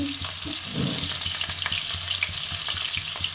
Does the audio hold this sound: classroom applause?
no